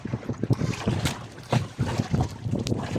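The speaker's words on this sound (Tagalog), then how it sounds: "malakas yung hangin" Gusty wind buffets the microphone in uneven low rumbling bursts, with a choppy outdoor roar that suggests open water.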